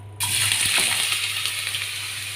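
Cubed potatoes dropped into hot oil set off a sudden loud, steady hiss of frying that carries on evenly after a brief splash, close up and with no talk.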